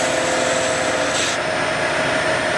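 A wooden spindle spinning on a lathe while a turning tool rides the bevel and cuts, giving a loud, continuous whirring hum with a steady rasping texture and a brief brighter swish partway through.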